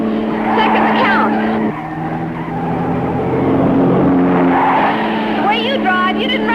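A sports car accelerates hard through a curve, its loud engine roar rising as the tires skid and squeal through the bend, all close and continuous.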